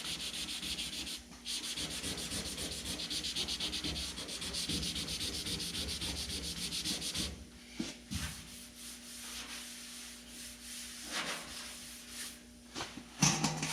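Hand sanding over a low spot in automotive primer, a steady close scratchy rubbing that runs continuously for several seconds, then breaks into shorter strokes with brief pauses.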